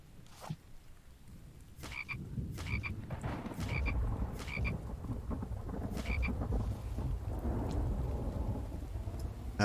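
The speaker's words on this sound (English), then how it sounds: "That one frog just seems to be resilient." A frog in the survival video game The Infected croaks repeatedly in short, evenly spaced calls over steady rain and low rumbling thunder, with no one speaking.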